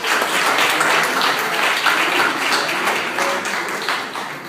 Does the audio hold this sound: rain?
no